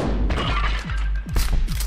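A shotgun fires in the Buckshot Roulette video game, one of several heavy booming thuds that land in quick succession among metallic in-game clanks.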